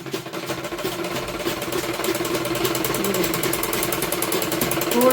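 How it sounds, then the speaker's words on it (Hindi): Sewing machine stitching a seam while altering a tight suit, a steady fast mechanical whirr running continuously and close, loud and unbroken throughout. "मैं आपको सिलाई लगा के दिखाती हूँ।"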